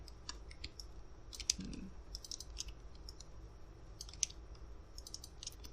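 A computer mouse clicks repeatedly during 3D modeling work, giving sharp, faint clicks in quick pairs and small clusters. The clicks sit over a low, steady background hum with no talk.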